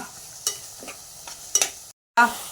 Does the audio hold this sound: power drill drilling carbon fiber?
no